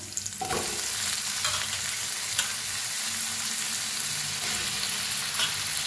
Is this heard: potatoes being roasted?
yes